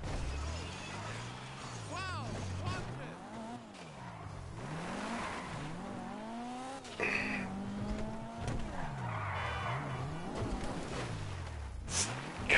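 Engine revving and rising and falling as a car skids and drives in the video game GTA 5, steady throughout with tire squeal, while a player talks over it.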